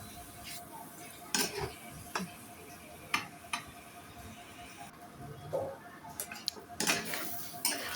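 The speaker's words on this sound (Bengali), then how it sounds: "আমি কিভাবে সুন্দর করে নাড়াচাড়া করে কষিয়ে নিচ্ছি" Desi chicken meat is stirred and fried in a pan, giving scattered close clinks and scrapes of a utensil against the pan over a soft sizzle, with short gaps between strokes.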